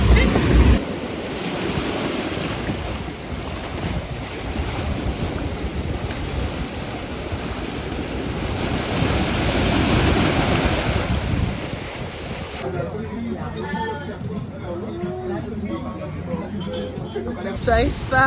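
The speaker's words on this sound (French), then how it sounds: "Les vagues se cassent." Surf on a Guadeloupe beach at sunset roars steadily as waves break, loud and continuous with heavy wind buffeting the microphone; people talk nearby in the second half.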